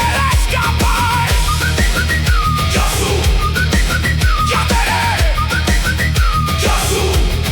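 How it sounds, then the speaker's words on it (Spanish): A repeated whistled figure depicting the Yasy Yateré of Guaraní legend, set within a Paraguayan folk-style song, carries loudly over steady instrumental backing with rhythmic percussion; the melodic whistling returns in short phrases throughout. "Un silbido cruza la siesta, otro responde desde el monte."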